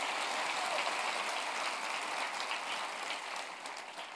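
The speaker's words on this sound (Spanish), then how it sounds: "Fuerte tu aplauso a Re Bendito" A congregation claps during a church sermon, a steady wash of hands that stays fairly even and fades slightly toward the end.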